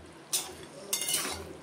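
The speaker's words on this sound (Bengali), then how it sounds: "ঢাকনাটাকে তুলে আবার একটু নেড়ে দেব" A pot lid is lifted and a spoon stirs mushroom chicken curry, giving two short clattering scrapes of metal against the pot over a soft simmering hiss, close and fairly quiet.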